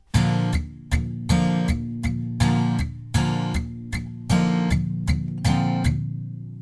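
Acoustic guitar strumming the stylized verse of a song from The Greatest Showman: a steady, even rhythm of full chord strums, each ringing briefly and fading before the next, close and alone.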